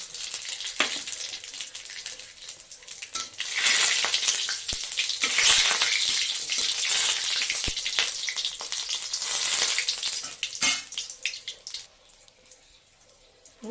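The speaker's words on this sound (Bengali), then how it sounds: "এই যে তেজপাতা জিরে আর শুকনো লঙ্কা ফোড়ন দিলাম" Bay leaf, cumin and dried chili crackle in hot mustard oil as a loud, close sizzle with scattered pops and stirring clicks, swelling mid-way and dropping to a quieter hiss at the end.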